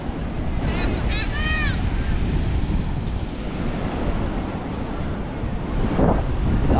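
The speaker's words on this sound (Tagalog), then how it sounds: "ang mahirap lang dito pag ganyan kalalaki ang alon" Large waves roll in at a river mouth on a windy day, a steady broadband roar of surf and wind buffeting the microphone, with a few brief high tonal chirps early on and a surge near the end.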